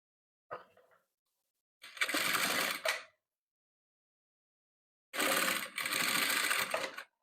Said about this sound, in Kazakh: Ақ түсімізге бірінші ақшыл қызыл түсімізді тігіп аламыз.